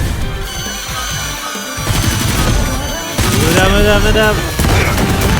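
Explosions from kamikaze exploding teddy bears in an animated battle between Joker of Persona and Giorno of JoJo's Bizarre Adventure, dense bursts of blasts and crashes overlapped with dramatic music and a character speaking.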